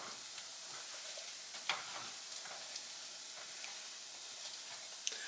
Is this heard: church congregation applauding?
no